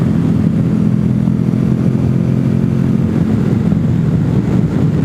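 A motorcycle riding along a foothill road in the morning, with steady loud engine drone and wind rush filling the whole stretch without letup or talk.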